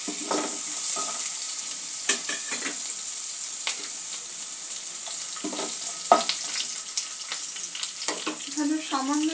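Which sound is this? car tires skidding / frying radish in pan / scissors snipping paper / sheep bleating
frying radish in pan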